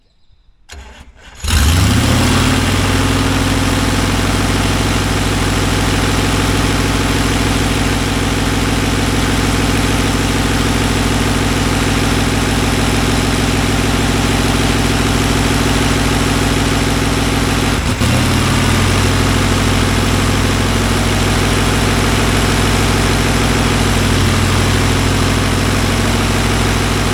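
A Renegade's engine, running for the first time, fires up after a brief crank and then settles into a loud, steady idle sitting a bit high, holding evenly throughout with a slight dip partway.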